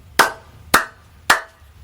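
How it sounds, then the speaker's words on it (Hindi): Three sharp hand claps, evenly spaced about half a second apart, each crisp and close with a quick decay, with no talking over them. "ताली बजाना तो पहले ही सीखना पड़ता है।"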